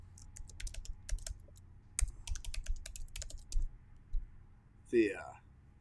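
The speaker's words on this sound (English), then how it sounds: "if you don't have it already, I'll type it in" Keyboard typing clicks out in rapid bursts of keystrokes, moderately close, with a short vocal sound or speech near the end.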